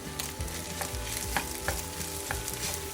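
Shrimp and sausage fried rice being stirred and broken up in a pan, a steady sizzle with scraping spatula strokes and soft clinks recurring at an uneven rhythm, close and moderately loud.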